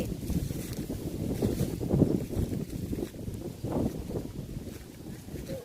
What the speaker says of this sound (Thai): ลมพัด